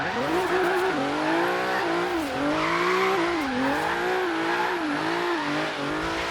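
Tuned 700 hp Hyundai Genesis Coupe drift build sliding around a short street route of corners, its engine howling steadily near and loud with rising and falling revs and tire squeal, no talk.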